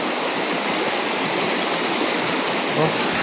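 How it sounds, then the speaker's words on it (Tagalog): Strong river current rushes over slippery rocks, a loud, steady broadband roar of flowing water close by with no break. "Malakas ang agos."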